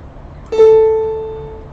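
A single plucked or struck note on an instrument gives a clear sustained pitched tone with strong harmonics, demonstrating a perfect fifth in a music theory lesson and decaying slowly over about a second.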